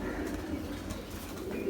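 A pigeon of a prized flying breed coos softly and steadily in a low, rolling murmur, close by.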